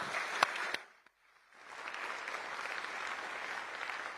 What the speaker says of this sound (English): please, everyone, join me in applauding these gentlemen.